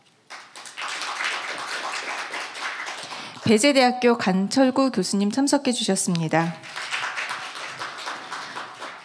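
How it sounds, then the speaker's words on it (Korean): Audience applause welcoming professors joining a panel at a Korea–Japan small-business forum, a steady wash of clapping heard before and after a announcer's voice speaks over the hall. "다시 한번 큰 박수 부탁드리겠습니다."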